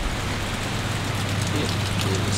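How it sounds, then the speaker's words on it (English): Rain falls outdoors during Hurricane Florence, a steady, dense hiss of drops on surfaces that stays constant and loud throughout the short stretch, with no voice over it. "it's still raining"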